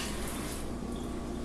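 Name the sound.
microfiber cloth being wet under running water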